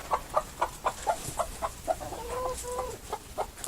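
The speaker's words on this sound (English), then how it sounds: "But you can see she's a pretty active hen." A brooding hen clucks in a steady, evenly spaced run of short notes with a couple of drawn-out tones midway, fairly faint and close with no talk over it.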